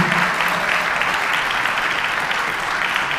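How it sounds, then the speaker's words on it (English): Audience applause for a high school honor choir at a concert, a dense, steady clapping of many hands filling the hall without a break. "Another round of applause for our honor choir."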